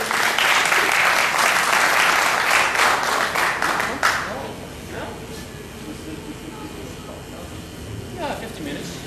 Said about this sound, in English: Can I have an applause for Johannes?